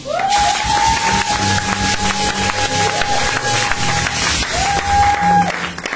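A church congregation claps and cheers loudly and continuously, with sustained high vocal whoops rising above the dense applause and some voices mixed in.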